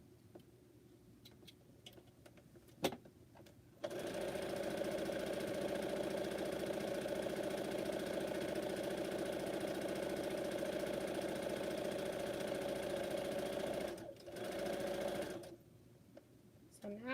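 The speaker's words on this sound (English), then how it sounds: "Now I'm sewing the top on the first one." A sewing machine stitches the top seam of a homemade fabric face mask, running steadily and fairly close for about ten seconds after a few light handling clicks, then pausing briefly and resuming for a short burst.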